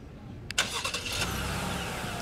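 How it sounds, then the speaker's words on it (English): A 2018 GMC Acadia Denali with a 3.6 L V6 starts remotely: a short crank catches, then the engine settles into a steady idle heard from nearby. "unlock, your remote engine start."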